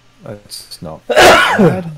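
A loud, close sneeze bursts out right after a few quietly spoken words.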